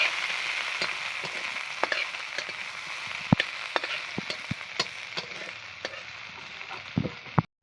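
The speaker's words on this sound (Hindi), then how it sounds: "अल्प तेल देगी पियाज और लंका को भाजीबा" Onion and chili fry in a little oil in a pan, giving a steady, close sizzle broken by light clinks and taps of stirring.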